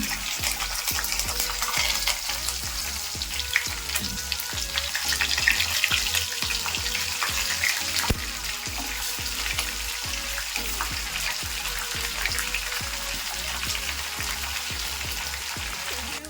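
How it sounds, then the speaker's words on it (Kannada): Brinjals (eggplants) are added one by one to hot oil for Karnataka-style ennegayi and fry there, producing a dense, continuous, crackling sizzle with many fine pops that stays close and steady throughout, with no speech. "ಒಂದೊಂದಾಗಿ ಬದನೆಕಾಯಿ ಹಾಕೊಳ್ಳೋಣ. ಈ ಥರ ಎಣ್ಣೆ ಒಳಗೆ ಬಿಟ್ಕೊಳ್ಳೋಣ."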